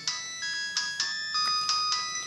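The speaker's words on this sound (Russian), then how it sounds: "Телефон звонит." A phone ringtone plays a repeating electronic melody of bright tones, moderately loud and steady, with no one talking over it.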